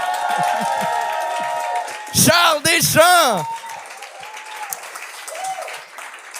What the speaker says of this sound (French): On peut applaudir Charles Deschamps,